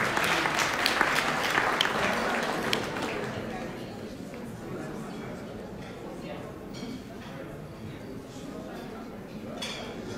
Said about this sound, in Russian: Друзья, поддержим аплодисментами нашего первого лауреата.